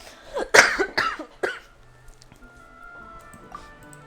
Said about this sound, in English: you guys will probably hear me cough a little bit more than usual